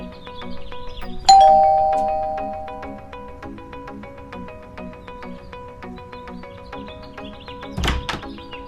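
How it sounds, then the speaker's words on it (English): A sharp doorbell chime strikes once and rings out, decaying over a quiet tick-like rhythm, followed by a brief thud a few seconds later. "Use your controller to ring the doorbell."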